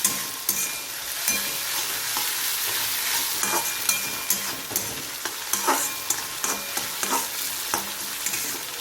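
Crushed garlic and green chillies roast in a hot pan with a loud, continuous sizzle, broken by regular scraping strokes of stirring, close and with no voices.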